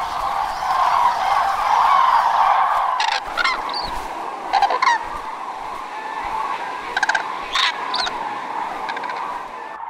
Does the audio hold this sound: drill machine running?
no